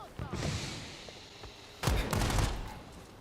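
A burst of rapid gunfire erupts midway through a match of the shooter game Strinova, loud and dense for over a second, after a quieter stretch of scattered sounds and faint voices.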